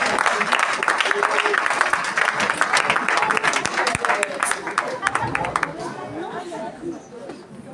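Audience in a conference hall applauding a singing group and young dancers, dense sustained clapping with scattered chatter that thins out and fades toward the end.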